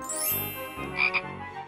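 A cartoon frog gives a couple of croaks in a children's storytime animation, with bright chimes and tinkling effects layered around it and no talk.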